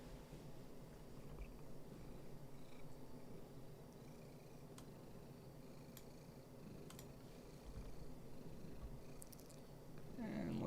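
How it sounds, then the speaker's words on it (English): A cat purrs close by indoors, a soft, steady low rumble that runs throughout at a quiet level, with a few faint ticks and clicks in the room and no talking. "So now we have a cat."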